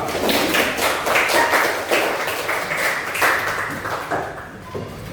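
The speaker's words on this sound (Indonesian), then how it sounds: "Tepuk tangan kita bersama." Audience applause at a teacher-training program event at UIN Sjech M. Djamil Djambek Bukittinggi: a dense, steady patter of many hands clapping close by, with a few louder individual claps, continuing without talk.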